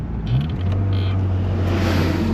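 A Nissan S13 driven on the road, with a steady low engine drone and road hum from inside the car and a brief rise in pitch at the start, with no talking.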